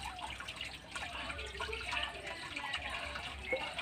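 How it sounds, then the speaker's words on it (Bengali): Small chanda fish are rinsed in water, a faint, steady wash of splashing and trickling with soft handling sounds, low and continuous throughout. "মাছগুলো এরকম করে ধুয়ে নেবো"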